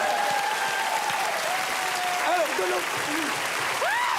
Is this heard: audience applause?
yes